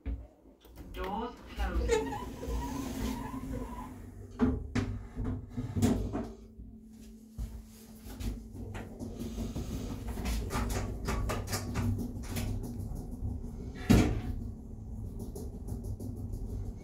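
The doors of a 2010 Ascendant lift in a WHSmith shop in Loughborough sliding closed with a mechanical rumble and thuds as someone talks over the motor hum.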